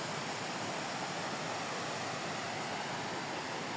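Small waterfall on the GR 70 Stevenson trail in France, a steady broadband rush of falling water, close and continuous, with no voices over it.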